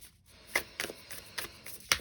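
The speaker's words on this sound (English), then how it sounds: "I was going to pre-shuffle too. I had a feeling it'd be a long shuffle." Tarot cards shuffled by hand during a reading, about five short, soft bursts of flapping and sliding cards at a steady pace, quiet and close with no talk.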